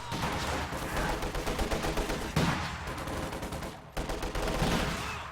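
Sustained battle gunfire from the Company of Heroes 2 game, with rapid bursts from DP light machine guns and heavier PTRS anti-tank rifle shots mixed into a dense, continuous fusillade at moderate loudness.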